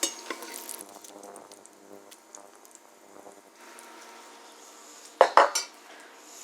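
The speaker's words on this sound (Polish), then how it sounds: "Po około 7 minutach wyjmuję skwareczki z boczku na talerz." Crispy fried bacon bits are scooped from a pan onto a plate, metal utensils scraping and clinking lightly, then a few sharp, louder clanks near the end.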